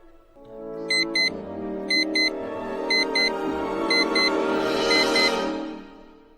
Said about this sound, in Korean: 갑자기 삐삐가 울려요